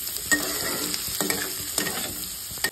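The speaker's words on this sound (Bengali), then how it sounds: "টমেটো কুচিটাও দিয়ে দেবো, আর কাঁচা লঙ্কা কাঁটাটাও দিয়ে দেবো। সমস্ত সবজিগুলোকে ভালো করে ভেজে দেবো।" Chopped tomato and green chili fry in oil in a pan for a leftover-rice dish, with a steady soft sizzle and occasional scraping stirs of a spatula, close and moderately quiet.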